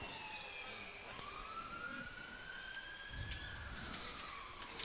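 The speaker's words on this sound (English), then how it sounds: "There seems to be a lot of sirens around Mackay today." Emergency vehicle sirens around Mackay wail, rising and falling in the distance over a steady background roar, fairly faint and continuous.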